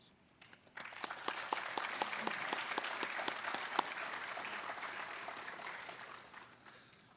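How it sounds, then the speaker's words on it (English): Steady applause from a large crowd at a police recruit class graduation, lots of hands clapping densely at a fairly even level, starting abruptly and tapering slightly at the end. "let me give all of you a round of applause"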